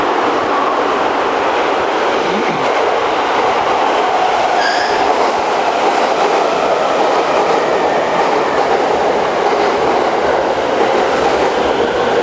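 A train rumbles steadily through a station in Tokyo, Japan at close range, wheels clattering over the rails with a brief high squeal partway through.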